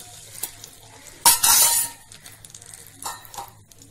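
A spoon stirs aloe vera gel in a cooking pan, scraping and clinking loudly in one close burst with softer stirs before and after, no voices.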